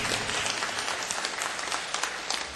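Applause from a church congregation for Sunday school students and teachers during a worship service, a dense steady wash of many hands clapping throughout, fairly even in level with no speech over it.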